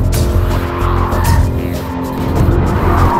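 A Rolls-Royce engine roars hard at high revs on a race circuit with tires squealing and skidding, loud and close, continuous throughout.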